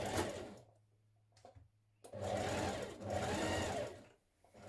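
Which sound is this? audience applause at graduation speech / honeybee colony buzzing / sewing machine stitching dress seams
sewing machine stitching dress seams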